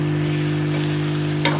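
Garlic-ginger paste and chopped tomato being stirred into frying keema, a brief close sizzle under a steady hum, with a sharp scrape near the end.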